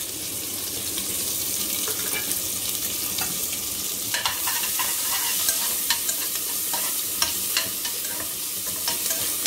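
Chopped onions, ginger and green chilies fry in oil in a pan over low heat, giving a steady loud sizzle with scattered crackles and stirring clicks throughout, no voices.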